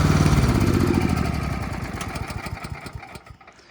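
A Honda HSS928A electric-start snowblower engine is shut off, its steady putter slowing and fading into sputtering pulses before dying out to near silence.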